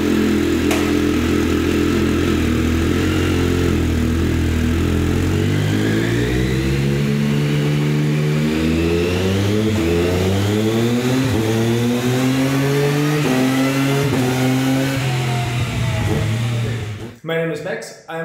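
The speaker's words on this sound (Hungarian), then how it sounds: "Hozzátenném, hogy a 85 köbcentis kétütemű motor 47 lóerőnél jár," An 85cc two-stroke engine revs on a dyno in a tuning room, a loud, close buzzing drone that climbs steadily in pitch over many seconds to a high scream, then cuts off abruptly near the end.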